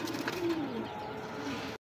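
A high flyer pigeon gives a soft, close coo, low and rolling, over quiet background murmur at a pigeon market before the sound cuts off.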